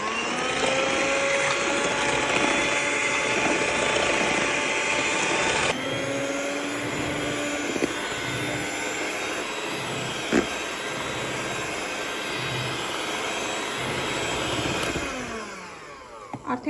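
An electric mixer on very low speed whips cream with sugar for tiramisu, a steady loud motor whine and whirring that carries on throughout with a small shift in tone partway through.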